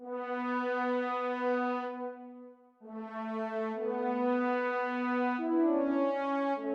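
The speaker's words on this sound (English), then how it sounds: "brass sounds like this when it's dry" Dry, unprocessed synth brass in a progressive house production, sustained harmonic-rich chords held for several seconds with a change of chord midway, steady and loud, no voices.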